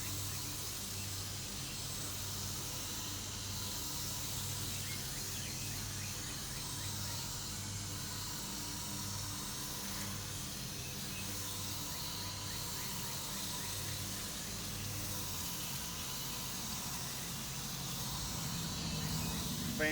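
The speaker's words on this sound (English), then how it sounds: "Spray it off really good." A water spray rinses mildew treatment off wooden shed boards, producing a continuous, even hiss that holds steady for the whole stretch with no pauses.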